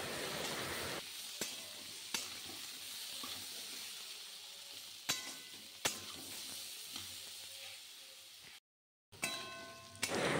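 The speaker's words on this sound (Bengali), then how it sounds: "খুব ভালোভাবে ভেজে নেব আলু আর পেঁপেটা।" Potatoes and papaya seasoned with turmeric and salt fry in a pan, giving a steady, close sizzle broken by sharp clicks and scrapes of stirring, with no talking.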